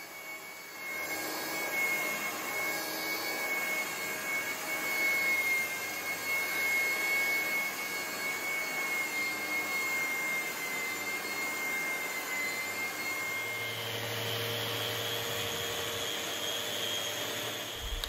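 A wide belt sander runs on a resin and chestnut dining table, giving a loud, steady, continuous whine and roar with a tonal hum throughout, without talk.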